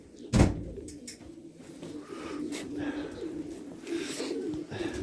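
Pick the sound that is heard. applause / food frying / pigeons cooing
pigeons cooing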